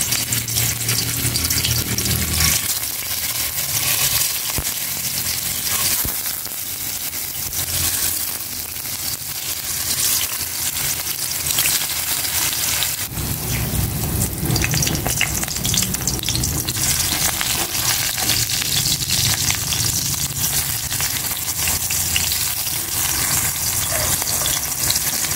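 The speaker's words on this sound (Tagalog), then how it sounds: "Maglagay na ako ng cooking oil para maprito ko na itong tokwa." Tofu fries in cooking oil with a loud, dense, continuous sizzle, surging as the pieces drop in and then crackling and spattering steadily up close, with no talk.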